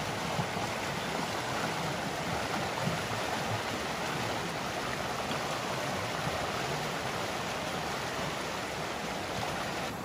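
A river flowing past an old cottonwood tree, a continuous even rushing and burbling of water that holds steady from start to finish, fairly close and alone without voices.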